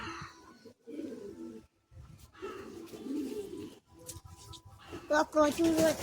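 Pigeons in a loft of high-flying Madrasi pigeons coo nearby in low, throaty, repeated calls, with brief pauses between bursts and livelier bird calls joining toward the end.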